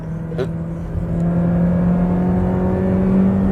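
A Mazda Skyactiv petrol car engine revs up and holds a high, droning whine, with a brief stutter near the start; close and loud, no talking.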